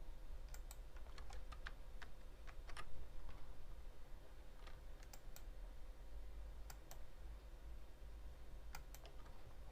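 Keyboard typing and mouse clicks during Photoshop and Illustrator design work, soft scattered clicks and keystrokes at close range over a faint steady hum, with no voices.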